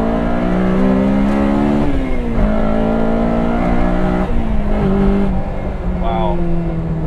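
The F20C engine in a Toyota AE86 revs hard under throttle from inside the car, its loud buzzing note climbing and dropping through several gear changes.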